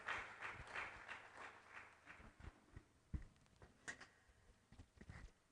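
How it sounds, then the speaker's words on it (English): An audience claps for a speaker at a live-streamed event, a faint, scattered patter of hands with uneven bursts that never builds into a loud ovation. "Another round of applause for him"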